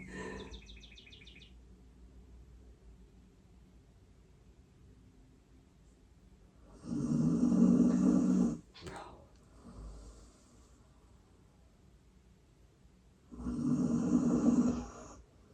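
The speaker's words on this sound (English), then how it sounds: "you can literally hear Willie snoring" Slow, deep snoring from an animal, two long rumbling breaths spaced several seconds apart, with soft room noise and a faint voice early on.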